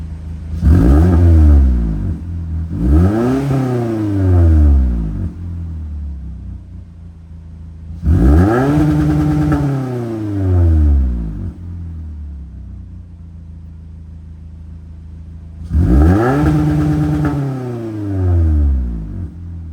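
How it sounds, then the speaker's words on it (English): An E210 Toyota Corolla engine fitted with a 2J Racing midpipe revs repeatedly at idle, each blip rising sharply then falling back, three close, loud bursts of rumbling exhaust separated by quieter idle. "once it warms up, I'll give it some revs and see how it sounds"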